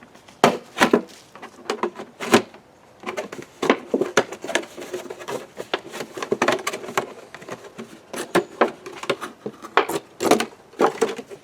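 A plastic gallon water jug has its top cut off with irregular snapping, crunching and scraping cuts, sharp clicks spread through the whole stretch at close range with no talking.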